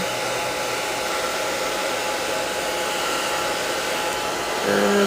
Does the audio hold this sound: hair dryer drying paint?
yes